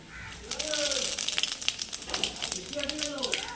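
Panch phoron spices sizzle and crackle in hot oil in a pan for a vegetarian bottle gourd curry, a steady close hiss with scattered pops and no talking.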